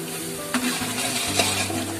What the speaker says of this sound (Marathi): आता हे चांगला मसाला त्याला परतून घ्या